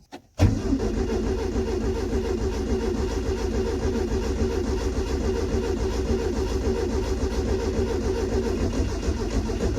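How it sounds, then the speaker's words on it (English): A flooded Datsun 120Y engine turns over under the starter after a sharp click, a loud, steady, rhythmic cranking churn that runs on and on without firing. "It's hard to say if I should keep pumping the pedal or just keep winding until it fires."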